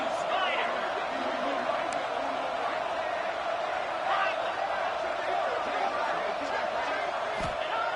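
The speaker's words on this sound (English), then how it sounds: "This crowd is trying to inspire this defense to make a big red zone stop." A dense, constant roar rises from the crowd at a Notre Dame vs Oregon college football game in the stadium, with a voice talking over the noise.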